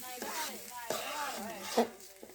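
Biryani ingredients sautéed in a cooking pot, with a steady sizzle and scraping stirs over roughly two seconds, a brief sharper clink near the end and faint voices in the background.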